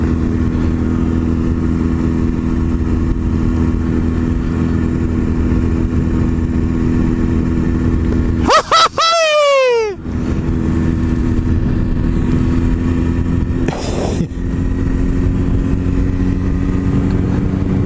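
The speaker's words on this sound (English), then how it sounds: "We're going to finish up with some motorcycle training." A motorcycle rides past during training, its engine droning steadily, then revving loudly and sweeping down in pitch as it passes close by, followed by another brief rev and a steady engine hum.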